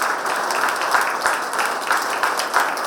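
Loud, steady applause from an audience at a Buddhist vihara gathering, rewarding a young girl's correct answer, dense clapping that swells slightly in waves.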